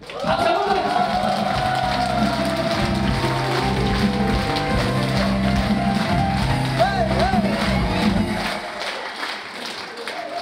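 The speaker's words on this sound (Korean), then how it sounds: "박수 한번 부탁드립니다." Applause from a crowd opening a year-end party celebration at a cafe, a dense patter of clapping under music and voices that fades toward the end.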